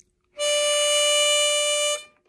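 A single clean, sustained draw note on hole 4 of a C harmonica, played unbent, sounding loud and close for about a second and a half before stopping abruptly.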